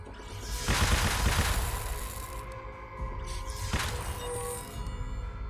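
Missiles launch in Battlestar Galactica Deadlock with two loud, rumbling whooshing bursts, each followed by sustained thunderous noise, close and heavy.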